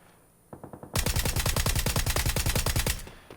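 Rapid burst of automatic fire from a VSS rifle in PUBG training mode: a few spaced shots, then a steady string of about twenty-five loud, close cracks at an even, fast rhythm, ending abruptly.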